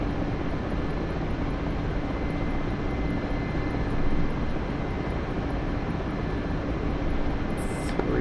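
Aircraft in the DCS flight simulator hovering down onto a runway, a loud, steady engine roar that holds evenly throughout with no breaks.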